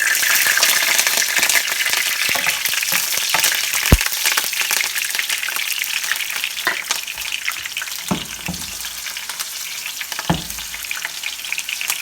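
Green chillies frying in hot oil for a dum biryani give a steady, loud sizzle that runs the whole way, with a few sharp stirring clicks and scrapes breaking through.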